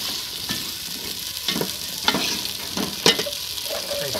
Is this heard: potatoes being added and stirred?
yes